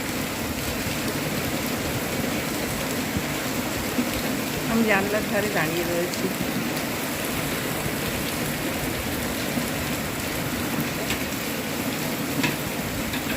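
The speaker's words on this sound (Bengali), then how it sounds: "দেখো কি জোর বৃষ্টির আওয়াজ হচ্ছে শুনতে পাচ্ছ তো" Heavy rain falls outside a window, making a dense, steady hiss that does not let up. A voice speaks briefly over it partway through.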